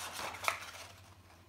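Scissors make a final cut along folded paper for a handmade 16-page mini book: a faint, crisp slicing rustle with one sharp snip near the middle.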